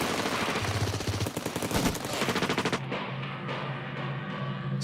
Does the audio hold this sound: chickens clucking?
no